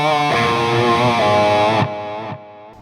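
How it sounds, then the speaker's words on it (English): Heavily distorted modern metal electric guitar through Overloud TH3 amp simulation with tape delay, a loud sustained chord and chugging notes ringing out, then repeating echoes trailing off as the sound cuts away. "the tape delay, which is really nice."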